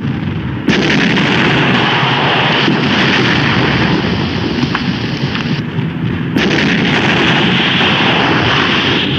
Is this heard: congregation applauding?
no